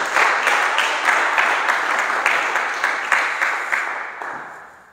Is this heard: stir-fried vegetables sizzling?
no